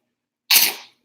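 A sick baby girl lets out one sharp, close sneeze that bursts out and fades within half a second, with silence before it.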